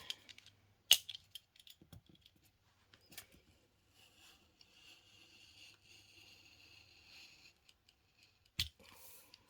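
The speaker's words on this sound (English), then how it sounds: "And then I'm just going to cut a line" Quiet snips and crisp rustling as scissors cut a line through a paper or craft material, a few sharp clicks at the start and end with soft cutting sounds in between, close and faint, no talking.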